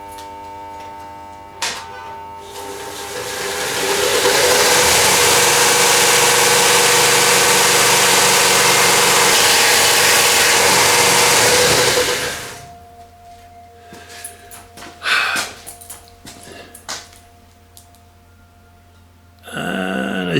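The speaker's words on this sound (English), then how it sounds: "got new belts for the belt sander" A belt sander fitted with new sanding belts runs with a loud, steady, broadband roar for about ten seconds, then winds down. Scattered clunks and handling noises follow, and the motor starts up again briefly at the end.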